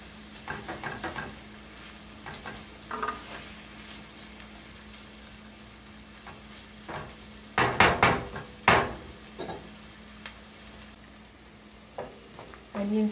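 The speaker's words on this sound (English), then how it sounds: "Now we have to cook till, like, you know, onion turn golden brown." Onions frying in a pan for Punjabi rajma, with a steady sizzle broken by scrapes and clatters of stirring against the pan. Clearest in a burst in the middle, with brief quieter talk around it.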